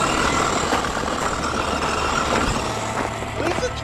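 Small electric motor of a cheap RC crawler whining loudly and steadily, a close, continuous buzzing drone with no talk over it.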